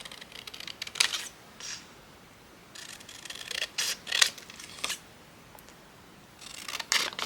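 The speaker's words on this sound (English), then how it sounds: "I'll just do it with these nice big scissors" Big scissors slice through paper for a journal, giving several short, crisp snipping and rasping cuts in uneven bursts, close and quiet with no talking.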